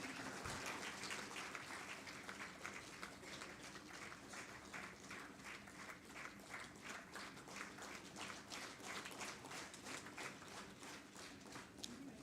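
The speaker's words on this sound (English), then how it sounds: "Let's have one big round of applause." An audience at a State Disaster Risk Reduction Day ceremony applauds with dense, sustained clapping that holds at an even level for several seconds without letting up.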